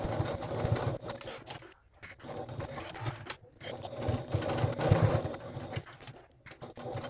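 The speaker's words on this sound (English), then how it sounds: "let's go back to the sewing machine and stitch the lining panel or zipper pocket onto the" A sewing machine stitches a lining panel onto the back panel of a crossbody bag, running in quick rapid bursts with short pauses between, close and fairly quiet.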